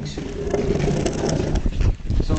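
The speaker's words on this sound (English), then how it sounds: "Oh, the birds are looking for you." Pigeons near a pier, a soft cooing and fluttering bird noise heard up close against a dense, noisy outdoor background, with no talk.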